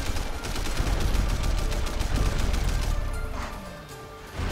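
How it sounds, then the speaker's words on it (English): Rapid gunfire in the Sleeping Dogs video game, dense bursts of shots crackling loud and close for several seconds before thinning out near the end, with no talk. "That gunplay's pretty easy."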